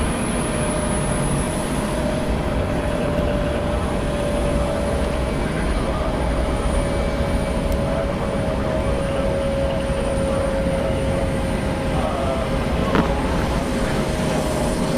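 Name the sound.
Delta Connection SkyWest Mitsubishi CRJ900LR jet departing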